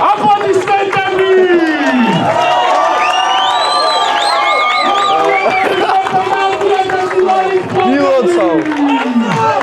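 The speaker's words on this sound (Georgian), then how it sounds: "აი ესე ჟღერს აპლოდისმენტები" Crowd cheering, whooping and clapping at a food challenge winner's celebration, loud and sustained throughout, with excited shouts and voices rising over the noise.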